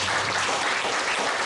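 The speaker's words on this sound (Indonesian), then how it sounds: "Kita beri tepuk tangan." A steady wash of audience applause at the official inauguration of a district board and its officers in Central Lampung, dense and continuous throughout with no pauses.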